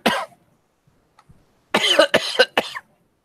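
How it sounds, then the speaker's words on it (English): A man coughs nearby in a quiet room, one cough, then a pause, then a rapid burst of three or four harsh, loud coughs in quick succession. "coughing himself out of his chair"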